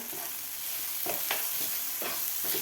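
Spatula scrapes and stirs egg bhurji in a hot pan with garam masala, red chilli powder, turmeric and salt. A light sizzle runs steadily under several distinct scraping strokes, with no voices.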